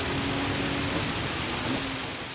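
Rain falls during a race in the video game Gran Turismo 7, making a dense, even hiss of water throughout with no talking.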